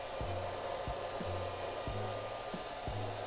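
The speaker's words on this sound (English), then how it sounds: "We're gonna have Roomba clean up some of the mess." A Roomba robot vacuum runs steadily, its broad motor whir constant with a low thump recurring about every 0.6 seconds, close and continuous with no talking.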